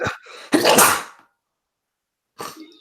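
A single loud, close sneeze with a sharp intake before it, followed by silence and then a short voice.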